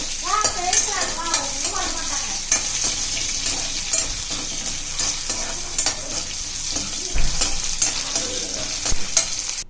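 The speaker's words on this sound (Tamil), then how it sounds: "இப்போ இதிலே தேங்காய் ஆட் பண்ணி நல்லா வதக்கிடுங்க." Loud sizzling in a pan with repeated scraping and stirring strokes as coconut is sautéed.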